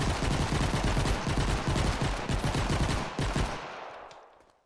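A modded weapon in the video game Fortnite fires in rapid, continuous automatic bursts, loud and dense, before the shots fade out toward the end.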